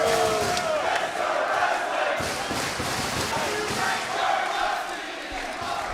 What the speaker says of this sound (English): The chorus of boos echoing down from this standing room only, beyond capacity crowd here at the Ted Reeve Arena